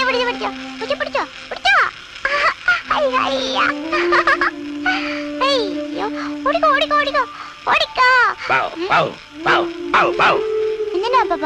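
A dog barks and yelps in repeated bursts, loud and close, mixed with howling cries and overlapping voices talking in a domestic setting.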